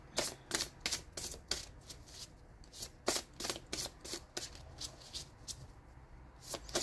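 Tarot cards being shuffled for a reading, a quiet close-up series of soft riffling bursts and slaps in an uneven rhythm, with no speech.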